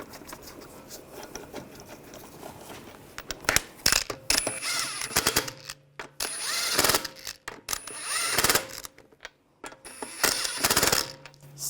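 A power tool snugs down wheel lug bolts on a 2009-2017 Volkswagen Tiguan, with a string of short, close whirring bursts and clicks separated by gaps.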